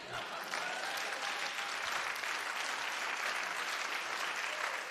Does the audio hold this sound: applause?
yes